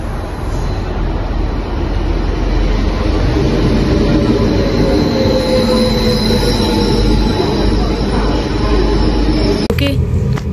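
A direct airport train in Germany rumbles loudly and continuously, with a long wheel squeal and a sharp clatter near the end, heard from on board.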